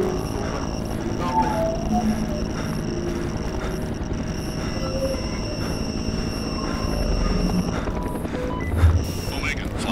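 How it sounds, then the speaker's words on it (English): A helicopter in the alien abduction horror game They Are Here gives off a steady, loud, low rotor rumble that fills the whole stretch, with a brief heavier thump near the end. "Pretty sure the helicopter finna go down."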